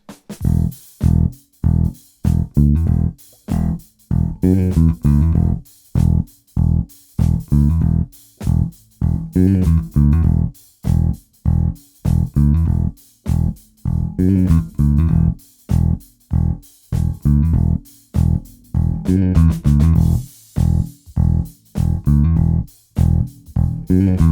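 A steady drum beat drives a repeating, syncopated electric bass line, the groove looping evenly and loudly without interruption.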